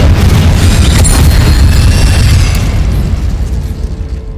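A roaring fiery blast from the Incendio fire spell in the game Hogwarts Legacy, loud and close, with a deep rumbling boom and crackle that sustains for a few seconds before slowly tapering off.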